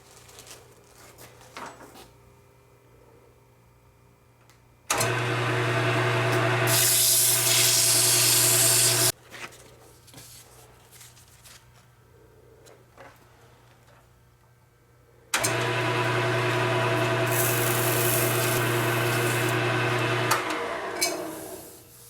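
Power sanding of spalted wooden handles for carbide woodturning tools, in two loud sustained bursts of steady hissing abrasion over a low motor hum, separated by quieter pauses with faint handling noises.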